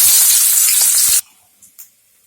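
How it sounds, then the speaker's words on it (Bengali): Chopped onion dropped into hot oil in a home kitchen, a loud sizzling hiss that runs steadily for about a second before cutting off abruptly, followed by a couple of faint clicks and near silence. "তেল গরম হয়ে গেছে, দিয়ে দেবো পেঁয়াজ কুচি।"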